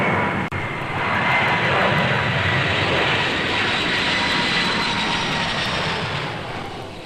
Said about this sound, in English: we'll slowly apply climb thrust and accelerate to our en route climb speed